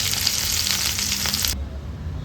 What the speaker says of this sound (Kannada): ಒಂದು 6ರಿಂದ 8 ನಿಮಿಷ ಈ ಹದದಲ್ಲಿ ಫ್ರೈ ಮಾಡಿಕೊಂಡ್ರೆ ಸಾಕಿದು